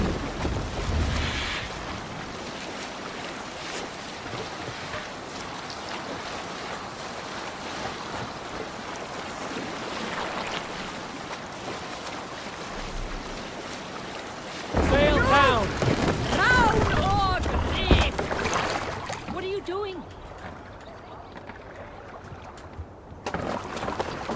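Sailing ship out at sea in Assassin's Creed Valhalla, with steady wind and water wash, then a louder stretch of sea and hull noise with voices speaking over it.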